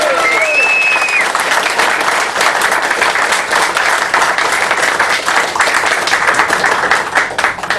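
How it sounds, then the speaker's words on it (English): An audience at a political talk gives loud, sustained applause for a speaker, dense clapping that carries evenly across the whole stretch and rises early before holding steady. "Let's have a big round of applause for Martin Webster."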